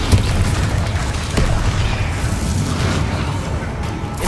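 Bombarda spell blast in Hogwarts Legacy, a deep rumbling boom with a dense low roar that sustains throughout, plus a couple of brief sharp pops layered over it.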